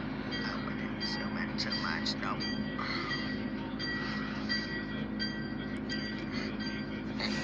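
An OC&T Alco 85 tanker train rumbles by steadily in Titusville, wheels clattering and metal squealing over a constant low drone, with a voice faintly audible beneath it.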